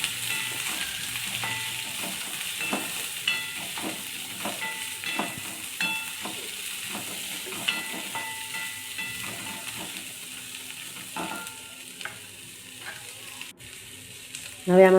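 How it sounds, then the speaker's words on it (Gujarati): Chilies and onions fry in oil for paneer masala, a soft continuous sizzle with repeated scraping and tapping as a spoon stirs the pan, close and fairly quiet, no voices. "મરચી અને હવે ડુંગળી નાખી દઈશું। મિક્સ કરી લઈશું।"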